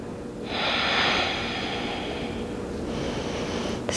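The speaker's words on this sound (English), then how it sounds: "Breathe." Steady breathing during a figure-four balance pose in a feel-good yoga session: one long, airy exhale-like rush lasting several seconds, close and fairly loud, with no talking.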